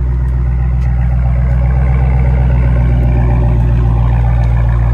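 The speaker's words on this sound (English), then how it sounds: "sure you can hear that V8 rumble" A 2018 Dodge Challenger R/T 392 V8 with a manual transmission idles with a loud, steady, deep rumble held close to the engine, unbroken throughout and with no voices over it.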